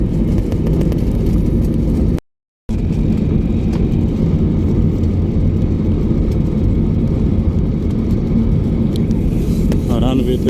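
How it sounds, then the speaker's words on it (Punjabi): A passenger airplane touching down at Port Blair airport and rolling along the runway, a loud continuous engine roar and rumble heard from inside the cabin, cut by a brief silent gap. "ਦੌੜਦਾ ਜਾਂਦਾ ਹੁਣ ਐਰੋਪਲੇਨ"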